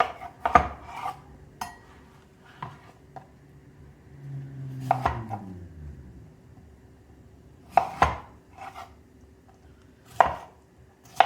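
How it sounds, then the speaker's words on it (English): A knife dices a potato on a cutting board, giving sharp, separate chops spaced a couple of seconds apart, with softer scraping and board knocks between them. No voices are heard. "Okay, so let's just dice that up really quickly."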